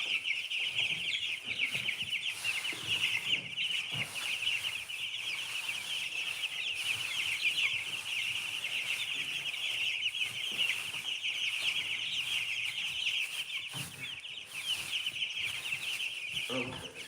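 Chickens clucking in a coop during the morning routine, a steady chorus of chatter and clucks close by with occasional louder squawks, continuing for the whole stretch.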